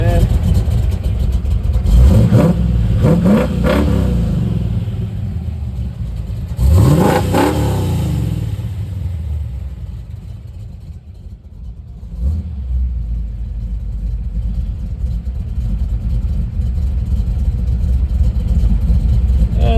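A cold 1973–74 Pontiac Firebird Formula engine runs with a steady low rumble, briefly revving twice before settling back into a loud, even idle.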